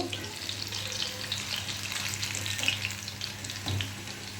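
Coconut pitha fry crisp in hot oil with a steady, close sizzle and soft crackle that holds evenly throughout, a low hum beneath it and a brief stir-like bump near the end.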